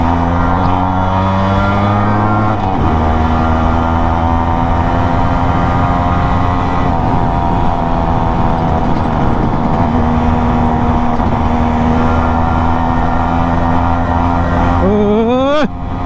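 A Yamaha RX100 two-stroke motorcycle engine revs loud and close throughout, its pitch climbing and dropping as the rider works up through first, second and third gears, with a sharp rev rise near the end.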